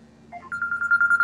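A phone rings with a short rising electronic tone followed by a steady, repeating pulsed beep, clear and fairly close.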